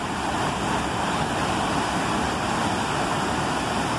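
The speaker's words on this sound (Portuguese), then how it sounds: "a barragem de São Paulinho está sangrando bastante água" Heavy water spilling over the São Paulinho dam spillway, a steady loud roaring rush of water that continues without a break and with no voices.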